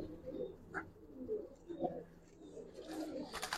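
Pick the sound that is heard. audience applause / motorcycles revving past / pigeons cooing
pigeons cooing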